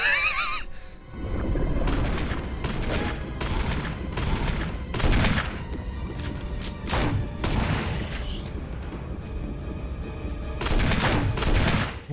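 Gunfire in the video game Resident Evil: a burst of several sharp, loud shots fired in quick succession. The blasts land irregularly over a busy game soundtrack.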